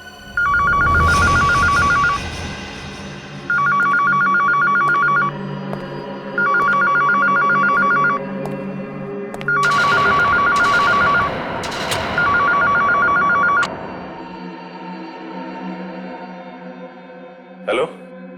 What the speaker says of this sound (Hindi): वो फोन उठाओ,